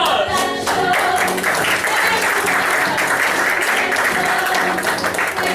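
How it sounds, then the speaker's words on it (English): Sustained applause from an audience, a thick wash of clapping that stays strong from start to finish, with music faintly underneath. "Let's give them a round of applause."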